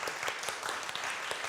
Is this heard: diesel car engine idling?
no